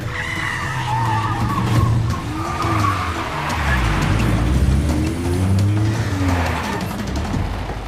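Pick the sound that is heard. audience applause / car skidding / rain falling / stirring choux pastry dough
car skidding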